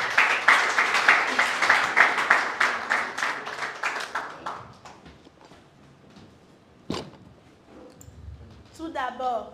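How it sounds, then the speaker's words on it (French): A television eloquence contest audience applauds a 16-year-old contestant with loud rhythmic clapping that swells, then fades after about five seconds, followed by a sharp thump and a voice starting to speak. "Acclamez-la, s'il vous plaît."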